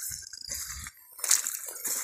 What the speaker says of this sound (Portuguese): Né, água correndo.